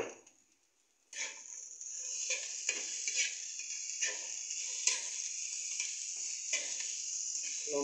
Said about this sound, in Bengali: নাড়াচাড়া দাও।